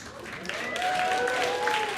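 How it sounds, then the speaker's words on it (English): Audience at a stand-up comedy show applauding, a steady wash of clapping with a few whoops over it, moderately loud and sustained for about two seconds. "Applaud if you're in love."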